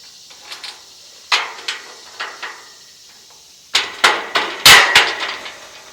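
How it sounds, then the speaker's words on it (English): A hammer striking metal antenna tower parts during assembly: roughly a dozen sharp, ringing impacts in irregular clusters, some single and some rapid pairs, close and loud against a quiet background. "Still my hammer."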